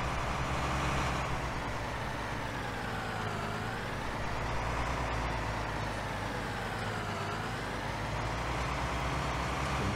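A large tractor's engine rumbles steadily while pulling a truck out of a hall, a continuous loud drone whose pitch sinks and rises with load, with no talk over it.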